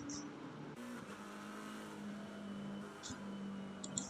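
Racing-game McLaren GT car at Kyalami in Assetto Corsa Competizione, a steady droning engine note held at constant pitch, briefly dipping and resuming, with faint tire squeal flickers and a commentator's voice underneath.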